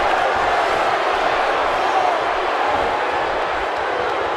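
Arena crowd in the WWE 2K18 wrestling video game keeps up a steady, dense roar of cheering throughout, loud and unbroken, with faint commentary voices mixed underneath.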